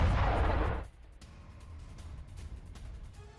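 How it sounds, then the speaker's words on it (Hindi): Heavy aerial bombardment with FAB-500 bombs on a mechanized brigade's positions, opening with a loud, broad blast that rumbles for under a second before dropping to a low, distant rumble and noise. "फैब 500 बमों से की गई भारी बमबारी।"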